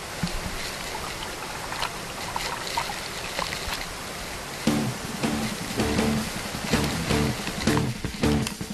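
Waterfall plunging some 50 metres into a deep pool, heard as continuous broadband rushing and splashing water with fluctuating surges, fairly close and with no talk.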